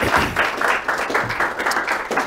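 Audience applause welcoming lecturer Coleman Hughes onstage for a talk on race in America at Lafayette's Mill Series, a steady wash of many hands clapping close and loud throughout.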